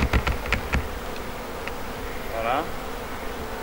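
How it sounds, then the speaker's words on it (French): A swarm of honeybees buzzes continuously and close, a steady droning hum, with a few sharp knocks at the start and one brief spoken word. "Les abeilles vont à l'intérieur, logiquement."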